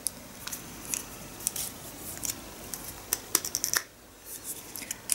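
Scissors snip through a cracked one-kilogram plastic bag of macadamia nuts, giving a run of sharp, close crinkly cuts and rustles, then a brief pause and a few softer plastic crackles.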